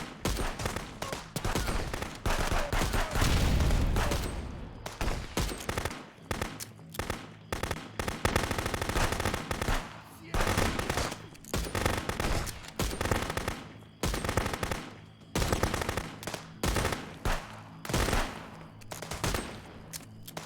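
Sustained gunfire rattles through a firefight in the game Contraband Police, dense bursts and rapid automatic volleys that keep going with short gaps, loud and close throughout.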